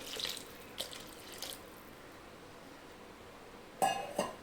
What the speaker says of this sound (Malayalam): ഒരു അര ഗ്ലാസ് അര കപ്പ് വെള്ളമാണ് വെച്ചെടുക്കണേ